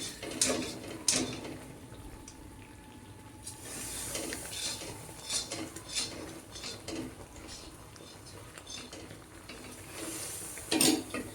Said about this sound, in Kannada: ಈ ರೀತಿ ಎಣ್ಣೆ ಹಾಕ್ಕೊಂಡು ಇದನ್ನು ತಿರುಗಿಸ್ಕೊತಾ ಹೋಗ್ಬೇಕು